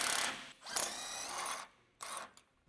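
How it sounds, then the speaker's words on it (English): Electric impact wrench spinning out a track bar mounting bolt on a Jeep Wrangler JK front axle, fitted with a 21mm deep socket: two sustained buzzing, whirring bursts with a short pause, close and fairly loud, no talk. "an electric impact wrench to remove the track bar mounting bolt"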